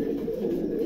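Lahori pigeons coo in a continuous low, throaty murmur, close and steady with no pauses, and no voices over it.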